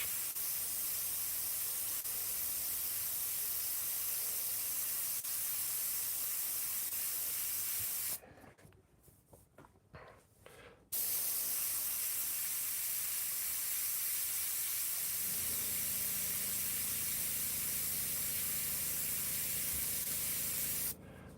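An airbrush spraying paint while painting a butterfly with a skull, fed by a California Air compressor. It gives a steady close hiss with a brief quiet gap partway through, then a lower hum joins beneath it.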